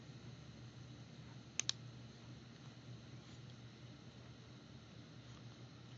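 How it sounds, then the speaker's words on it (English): A computer mouse clicks twice in quick succession, a sharp close double click over a steady low room hum, with no voices. "We click on that."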